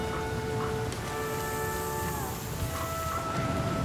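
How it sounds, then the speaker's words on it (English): Steady rain hisses throughout in the survival game The Flame in the Flood, a continuous wash under soft tonal game music, with no talking. "Oh boy, now it's raining."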